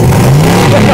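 A car engine is revved hard, producing a loud, close, sustained roar with a rising and wavering pitch that fills the whole moment.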